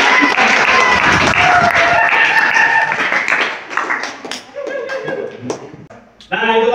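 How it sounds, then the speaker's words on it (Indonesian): Classroom applause from students, loud and scattered at first, then thinning into light claps with some chuckling. Voices talk over the clapping. "silakan untuk tepuk tangan tuh yuk"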